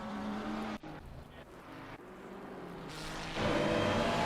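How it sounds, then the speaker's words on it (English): Red, white and blue Ferrari 296 race car sweeping through a long right-hand bend at Zolder, its engine holding a steady loud drone that swells toward the end of the pass. "there is Master in the 7 red, white, and blue Ferrari 296 going around the long sweeping right-hander"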